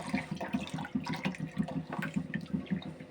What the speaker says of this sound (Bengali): এখন আমি সাথে গুঁড়ো দুধ দিব একটু লিকুইড করে